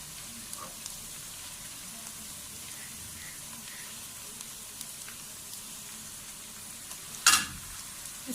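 Onions frying in a pan for chicken biryani give a faint, steady sizzle, with a brief louder clatter near the end.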